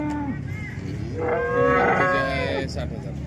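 A cow at a cattle market gives one drawn-out, nearby moo that swells and fades over a couple of seconds against low background market noise.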